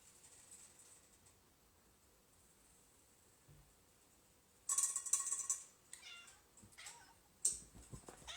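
A house cat meows for a treat in a quiet kitchen, several clear, fairly loud meows coming in a cluster after a long silent stretch, close to the listener.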